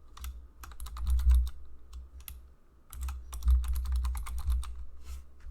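Someone types an email address on a computer keyboard: quick clusters of close, crisp keystrokes in two bursts with a short pause between them.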